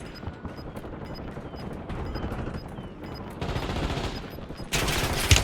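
Gunfire rattles in the battle royale video game Warzone as a series of sharp shots and bursts repeating irregularly, growing denser toward the end, with a game alert tone beeping over the top.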